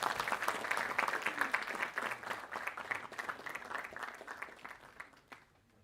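A business conference audience applauds as a speaker is welcomed to the stage, a dense steady patter of many hands that carries on for several seconds and then fades out.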